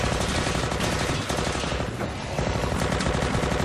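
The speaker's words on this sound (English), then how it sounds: "Why are you firing, Rick?" Loud, sustained automatic gunfire from a TV drama, a dense unbroken rattle of rapid shots filling the whole stretch with only a brief dip midway and no talk.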